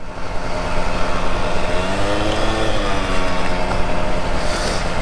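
An Aprilia SR 50 Motard scooter's small engine runs loud and close, its buzzing pitch rising and falling as it revs and accelerates without any voices.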